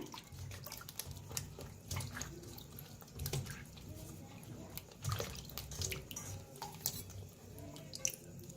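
Brinjals are rinsed by hand in water, with irregular sloshing, splashes and drips close by at a fairly quiet level.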